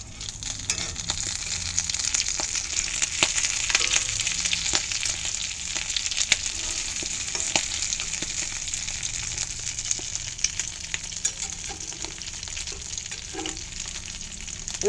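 Food sizzles steadily in a cast iron pan on a Coleman stove inside a Harbor Freight greenhouse, a constant close frying hiss with occasional soft utensil scrapes and no voices.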